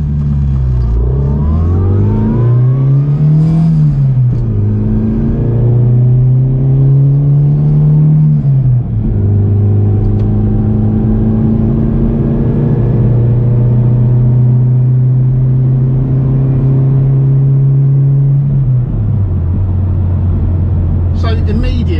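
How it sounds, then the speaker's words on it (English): A car is driven hard through the gears, heard from inside the cabin: a loud engine note rises in pitch, drops at each shift, then climbs again, with a long steady pull in the middle. "let's give it a run through the gears and see what it accelerates like."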